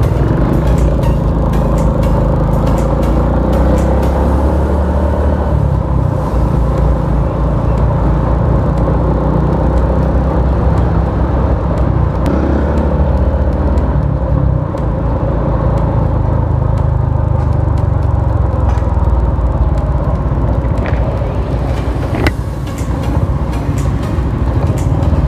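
Steady morning road traffic rumbles at a busy city crossing in Dumaguete, Philippines, a dense continuous wash of engines and passing vehicles, loud and close, with no voices.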